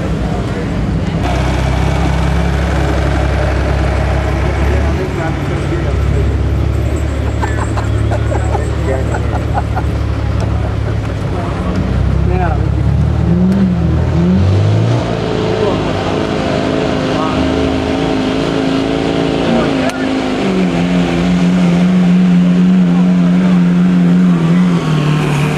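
A 2004 Duramax diesel pickup roars steadily at a truck pull, its heavy low engine drone loud and continuous, with a pitch shift midway and an announcer talking over it on a crowd PA.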